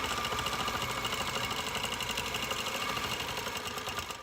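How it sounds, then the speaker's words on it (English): Sewing machine running steadily for free-motion quilting with a ruler along a border edge, a continuous fast mechanical whir and needle patter that holds loud and even throughout, easing slightly at the end. "now I can travel back here on the edge and quilt out the rest of this angle here"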